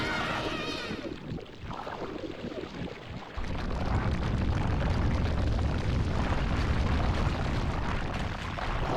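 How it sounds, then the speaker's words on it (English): A bomb boost explodes in Super Mario Galaxy during a ghostly galaxy boss fight, a loud broadband boom that swells at about three seconds and stays as a sustained rumbling roar to the end. "you use the bomb boost to destroy his outer shell until he reveals kind of his weak point"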